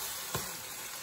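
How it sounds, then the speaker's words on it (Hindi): Chicken strips frying in olive oil over a medium flame, a soft continuous sizzle with one brief stir or splash partway through, close and quiet with no talking. "अब ये मीडियम फ्लेम पे हम चिकन पका रहे हैं।"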